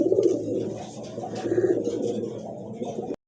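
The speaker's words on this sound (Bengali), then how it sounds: "বিগ সাইজের একটা আকাশি কালারের ভিতরে রাজগোল্লা কবুতর" A large sky-blue Rajgolla pigeon with red bars coos up close in repeated throaty rolling phrases against faint background noise, with no talking.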